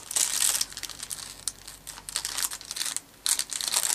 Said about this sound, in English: I'll just try and cut the tape a little bit